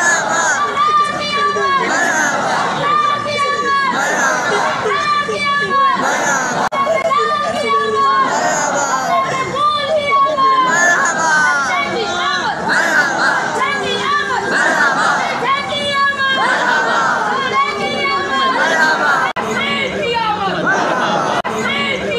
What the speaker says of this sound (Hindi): ये नारे खुद अमीर दावत इस्लामी के सामने लग रहे हैं